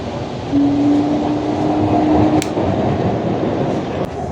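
A metro train rumbles along steadily through the underwater tunnel of Kolkata's Howrah Metro with a loud broad roar, a brief tone partway through, and occasional sharp clicks from the rails.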